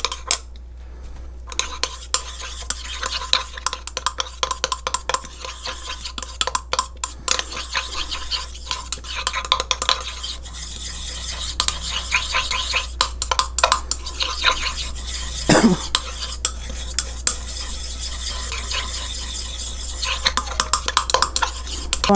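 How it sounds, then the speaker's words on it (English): Homemade coconut oil lotion is mixed with essential oil, heard as rapid clinking and scraping of a utensil against a container, close up and continuing in quick irregular strokes. "So add your essential oil, which I just added now, and mix it."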